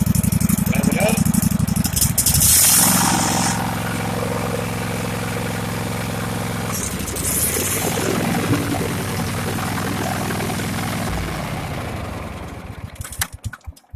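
A Craftsman lawn mower engine with a PTO switch fault runs loud and close, holding a steady idle, then revving and settling before sputtering off at the end.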